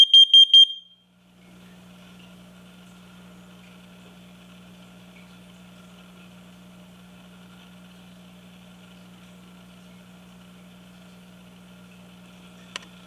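Nest smoke and carbon monoxide alarm under test: a few sharp high beeps at the start, then a long steady low hum, ending with a single short chirp.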